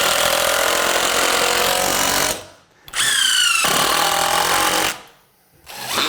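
Cordless drill with a battery about to die driving screws into basement wall framing lumber, two loud, sustained bursts of high-speed whirring with a pitch sweep as one screw seats, short silent gaps between, then a third burst starting.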